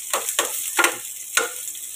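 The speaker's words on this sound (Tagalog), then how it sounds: "pwede na natin ilagay ang ating bagoong para yung bagoong isasama natin sa gisa" Shrimp paste (bagoong) being sautéed with garlic, onion and ginger in a pan, with four distinct bursts of sizzling and stirring over a steady hiss, close and moderately loud.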